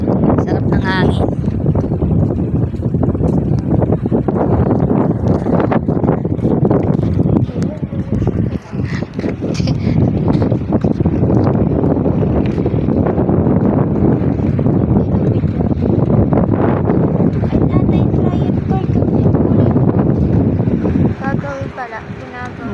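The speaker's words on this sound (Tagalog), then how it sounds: "Sarap ng hangin." Wind gusts buffet the microphone outdoors, a continuous broadband rush that dips briefly midway, with people talking underneath.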